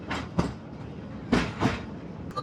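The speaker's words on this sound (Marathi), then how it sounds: "फायनली आपली ट्रेन मस्तपैकी या निसर्ग वातावरणात आतमध्ये चाललंय." A small toy train rolls through the forest of Borivali National Park, giving a few soft, close wheel clacks and rumbles spaced irregularly over a quiet background.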